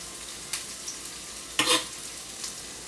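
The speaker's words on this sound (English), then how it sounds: "I'm going to throw my coarsely chopped garlic in there with my onions" Coarsely chopped garlic and onions for turkey chili sizzle and fry in a pan, a steady close hiss broken by a few brief stirring scrapes and pops, with no talking.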